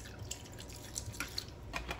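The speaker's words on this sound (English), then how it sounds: "as you can see I'm pouring the lemon juice all over the ribs" Lemon juice is poured over raw ribs, producing faint, soft drips and small liquid splatters with scattered patters, quiet and close, without talk.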